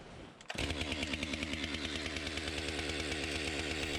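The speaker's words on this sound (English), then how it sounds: "So this is a Stihl MS 462 CM chainsaw." Stihl MS 462 CM chainsaw with a 25-inch bar roars to full throttle after a brief idle, then holds a loud, steady, buzzing rev with a fast pulsing chatter throughout.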